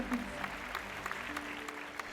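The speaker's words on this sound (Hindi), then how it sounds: "एक बार जोरदार तालियों के साथ स्वागत उनका।" An audience at a university business event in Ahmedabad claps warmly to welcome a speaker, a dense, steady patter of applause, fairly faint and distant, with a voice over it.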